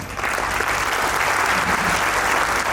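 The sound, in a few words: audience applause for mothers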